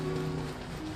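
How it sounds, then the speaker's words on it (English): Rain falls steadily across an outdoor landscape in the Genshin Impact video game, a dense, even patter that holds at a constant level with no talk over it. "We've got environmental changes, wind and rain."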